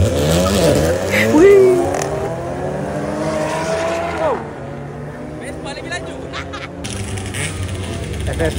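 A Honda Civic, an FL5 or FK8, revving loudly at a car event, with sweeping rises and falls in engine pitch over crowd chatter, then a quieter stretch before the noise picks up again.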